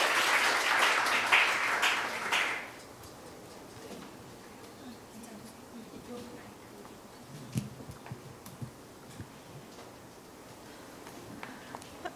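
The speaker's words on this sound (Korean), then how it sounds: "여러분 따뜻한 박수로 맞아주시기 바랍니다." Warm audience applause at a talk event welcoming a speaker to the stage, a loud broadband burst for the first two and a half seconds that cuts off, leaving a quiet room with scattered small noises.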